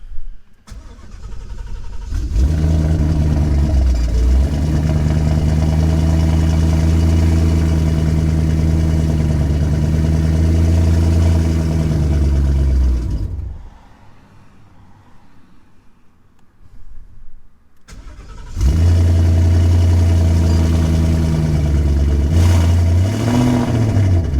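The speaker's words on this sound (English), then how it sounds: "so let's start up the car" A turbocharged Ford Mustang engine cranks and catches, then settles into a loud, steady idle close by, cuts off, and is started again with a brief rev near the end.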